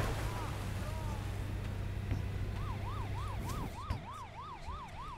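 Ambulance siren in the video game Goat Simulator 3, a rising-and-falling wail that starts partway through and repeats steadily over a dense, loud game backdrop of traffic and other noise.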